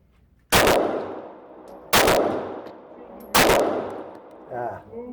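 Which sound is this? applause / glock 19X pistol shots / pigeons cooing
glock 19X pistol shots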